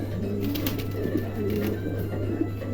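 A pair of red-eyed pigeons coo softly and steadily in a bird showroom, a continuous low burbling over a constant background hum.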